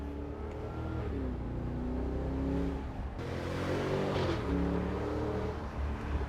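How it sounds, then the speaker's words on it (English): Supercharged V8 exhaust of a 2023 Cadillac Escalade-V echoing off canyon walls, a sustained deep rumble with rising and falling revs and a faint whine, steady and fairly close throughout. "The sound of that supercharged V8 echoing off these canyon walls."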